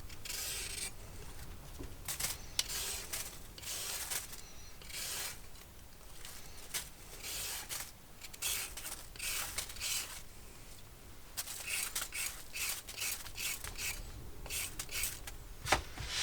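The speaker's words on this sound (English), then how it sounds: "I like to use a peeler and peel my carrots" Carrots are peeled with a vegetable peeler in a home kitchen, making repeated scraping, rasping strokes in a steady rhythm, close and fairly quiet, with no talking.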